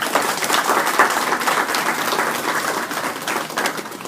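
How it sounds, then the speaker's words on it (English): An audience claps in sustained applause, a dense wash of many hands clapping together at a steady level for several seconds. "Let's give them a round of applause."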